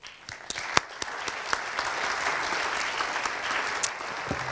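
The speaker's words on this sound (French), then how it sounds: "Merci Laurence, on peut l'applaudir chaleureusement" Audience at a wine tourism round-table conference applauds warmly, clapping building quickly after a few sharp early claps and holding steady, fairly close and full.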